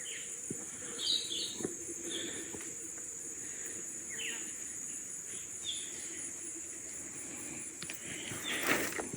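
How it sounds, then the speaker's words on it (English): Faint birdsong with scattered chirps over a steady outdoor background of insect buzz and hiss, no voices. "Just the sound of the birds."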